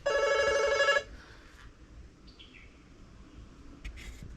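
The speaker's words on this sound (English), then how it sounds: "there's my phone" A telephone rings loudly in a short electronic burst for about a second, then stops, leaving a quiet room with faint chirps.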